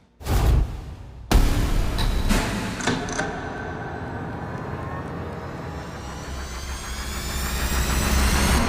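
A long connecting rod V8 with 6.800-inch rods fires up on an engine dyno: a short cranking burst, then a sharp catch as it starts and settles into a loud, steady idle that builds toward the end.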